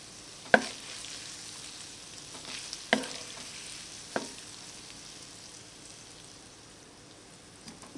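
Pork browns in a frying pan with a faint steady sizzle, broken by a few sharp clicks and scrapes of stirring.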